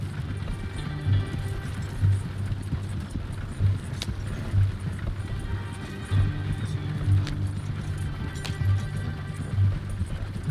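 Horse hooves clip-clop steadily at a trot in Red Dead Redemption II, with a wagon rolling along and game ambience underneath, the hoofbeats moderately close and rhythmic throughout.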